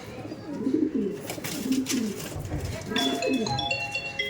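Kalanka pigeons coo in repeated low, throaty rolls close by, an aggressive flock with squabs present, with rustling and a few higher bright chirps mixed in.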